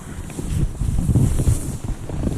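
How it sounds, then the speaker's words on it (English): Strong wind of about 10 to 15 mph sweeps across a frozen lake during ice fishing, blowing snow around; it comes through as a steady rushing buffet on the microphone, loud and unbroken. "the wind's like 10 to 15 today, so it's a little cold"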